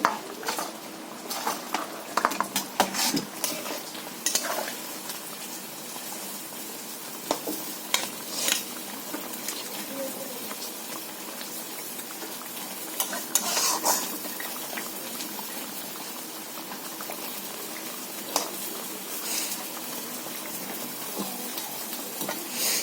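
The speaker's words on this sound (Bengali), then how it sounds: "তো বন্ধুরা ভেজে রাখো মাছগুলো দিয়ে দিচ্ছি।" Fried fish pieces being added and stirred in a frying pan, a soft sizzle under repeated scraping and clinks of a utensil, close and fairly quiet, no talk.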